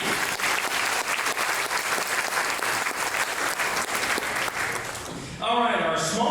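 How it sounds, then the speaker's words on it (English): A dense round of crowd applause rolls steadily through a chamber of commerce awards dinner, holding strong for several seconds before fading as a voice starts speaking over the tail. "Another round of applause"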